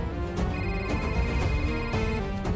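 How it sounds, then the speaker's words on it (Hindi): A telephone rings with an incoming call, a loud electronic ringtone whose tonal pattern repeats in short bursts, with faint background underneath and no talking. "उसी का फोन आ रहा है सर"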